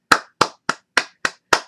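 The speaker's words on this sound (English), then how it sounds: "give these guys a round of applause" Six slow, evenly spaced hand claps ring out loud and close, each a sharp crack with a short decay, celebrating the team behind a NECA ED-209 figurine.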